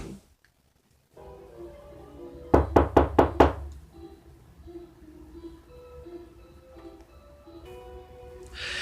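Five loud, sharp knocks on a door in quick succession, close and clear, followed by quieter indoor room sound.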